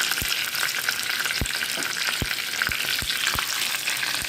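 Curry leaves and dried red chillies frying in oil as a tempering for stingray curry: a loud, close, crackling sizzle with sharp pops and spatters at irregular intervals, no speech.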